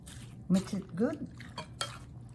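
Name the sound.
stirring creamy fruit salad with condensed milk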